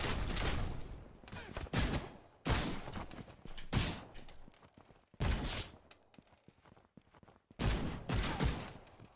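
Bursts of video-game gunfire in a shooter, loud and close, arriving in several separate volleys of rapid shots with brief quieter gaps between them and no talking.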